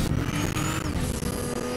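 Car engine in an online shooter video game, a loud continuous motor drone with tyre and road noise as the vehicle drives off, filling the short clip.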